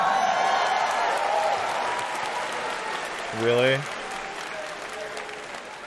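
Thin audience applause at the Bethesda E3 2019 presentation, a steady moderate patter of scattered clapping throughout, with a brief spoken exclamation over it midway.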